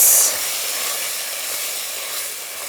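Chopped tomatoes and onions for a curry hiss and sizzle loudly in a hot pan while being mixed, a dense, steady, steam-like frying noise close up.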